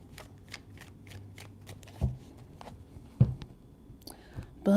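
Tarot cards being shuffled in a rapid flurry of soft riffling bursts, close up, with a few light taps and faint murmuring.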